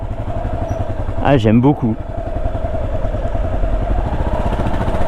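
A Yamaha XT500 motorcycle engine thumps steadily and close while riding at low speed, with someone briefly speaking over it.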